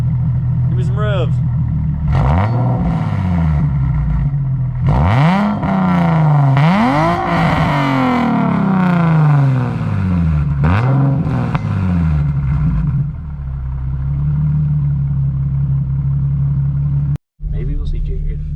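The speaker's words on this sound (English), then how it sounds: "Give me some revs." A Lexus IS300 with a new exhaust revved repeatedly, loud close engine rises and falls in several blips over a steady idle rumble, with people talking.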